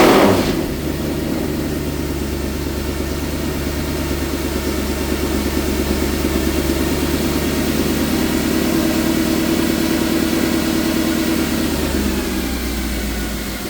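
A Mercedes E63 AMG engine with misfire trouble cold-starts with a sharp burst, then settles into a steady, deep, slightly uneven idle that drones on loudly and alone.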